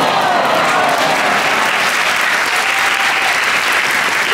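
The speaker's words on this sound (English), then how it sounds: "we give her the greatest of awes, followed by applause, right now." Audience applause at a live improv comedy show, a dense, steady wash of clapping from a large crowd that stays loud and sustained throughout without any talk.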